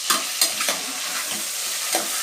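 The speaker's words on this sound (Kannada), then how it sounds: "ಇದರಲ್ಲಿ ಎಣ್ಣೆ ಅಂಶ ಇರುತ್ತಲ್ಲ ಅದೆಲ್ಲ ಬಿಟ್ಕೊಳಂಗಂಟ ಫ್ರೈ ಮಾಡ್ಕೊಳ್ಳೋಣ ಚೆನ್ನಾಗಿ ಮಿಕ್ಸ್ ಮಾಡ್ಕೊಳ್ತೀನಿ" Chicken pieces for village-style chicken chops fried and stirred in a pan, with a continuous close sizzle broken by several quick scraping strokes of the spatula.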